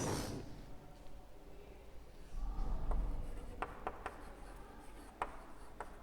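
Chalk or marker scratching across a classroom board as a teacher writes, soft rubbing strokes with a few sharper taps, moderately close in a quiet room.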